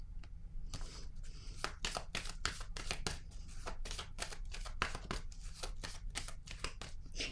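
Tarot-style cards are handled and laid down on a table, giving a quick run of close, crisp slapping and shuffling snaps, fairly faint with no voice over them.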